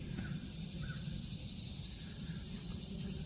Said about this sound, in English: Bugs!